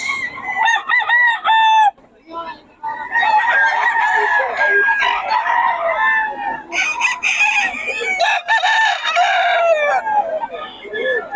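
A White Hatch gamefowl rooster crows repeatedly and loudly at close range, each cock-a-doodle-doo stretched and wavering, with clucking and other birds around.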